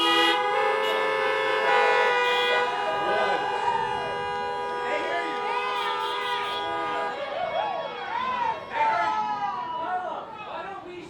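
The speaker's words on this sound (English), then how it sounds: "honk once." Many car horns honk together at a drive-in graduation ceremony in a long, overlapping chorus, steady and fairly loud, with a few higher horns rising and falling above the rest.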